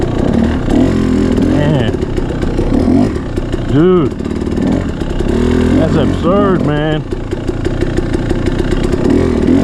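A motorcycle fitted with a Rekluse Radius X clutch idles and revs loudly and up close, refusing to stall, while someone talks over the engine.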